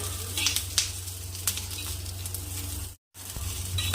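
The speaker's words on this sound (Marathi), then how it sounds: "आता यामध्ये आपण मिरच्या भाजून घेऊ" Green chillies roasting in a spoonful of oil on a tawa over moderate heat, a steady close sizzle with scattered sharp crackles and pops, briefly cutting out before resuming.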